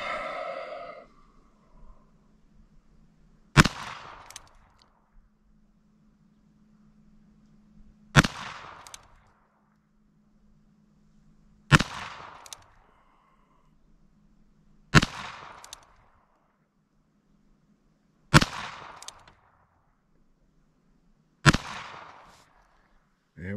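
A Ruger Single-Six Convertible revolver fires Norma .22 Magnum 40-grain jacketed hollow points outdoors. Six sharp, loud shots ring out with a brief echo after each, spaced about three to four seconds apart, with quiet stretches between them.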